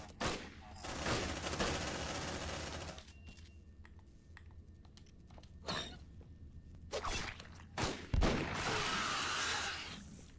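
Shotgun fire in the squad-based sci-fi game Aliens: Dark Descent, with loud broadband blasts and bursts in a busy opening stretch, then scattered sharp shots and a heavy late burst over game noise.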